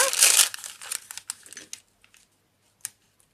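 Paper crinkles and rustles up close, a burst of crumpling followed by a few scattered soft crackles fading into quiet.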